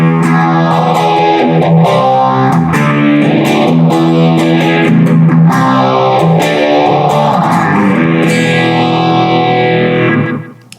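Electric guitar played through a NUX Cerberus multi-effects pedal with delay and reverb, loud sustained chords sweeping with a swirling modulated tone and distortion, ringing alone before cutting off at the end.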